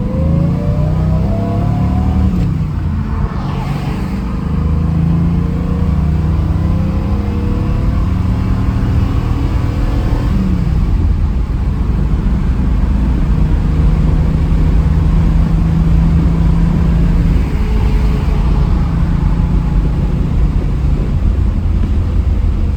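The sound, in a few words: 1956 Chevrolet Bel Air accelerating and shifting gears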